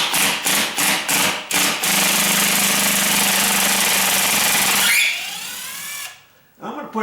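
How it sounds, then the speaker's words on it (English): A ratcheting power drill drives a 3-inch screw during a condo garage door repair: several short, sharp bursts, then a long, loud, continuous grinding run that suddenly drops off and is followed by faint rattling. "what you're hearing is a ratcheted drill"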